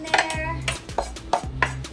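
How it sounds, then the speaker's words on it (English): Chopped garlic scraped off a knife into a bowl while making bibimbap, a few quick light clinks and taps of metal against the dish in an irregular rhythm, close and clear. "Grab your garlic that you just cut and obviously place it in your bowl."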